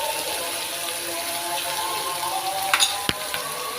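Ginger garlic paste stirred and fried in a pan for an egg korma, giving a steady close sizzle with a few sharp scraping clicks of the spoon near the end.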